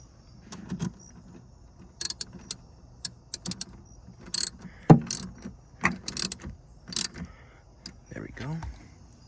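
Ratchet tightening a bolt on a 2002 BMW 530i E39 engine during PCV system and coolant hose work, sharp clicking bursts in irregular runs, close by, with a voice speaking now and then.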